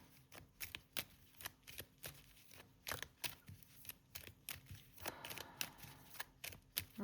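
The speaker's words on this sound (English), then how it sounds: "Give them a shuffle." A deck of playing cards is shuffled up close, a quick run of crisp, rhythmic riffling flicks that repeats steadily, rising into a denser flutter near the end, with no talking.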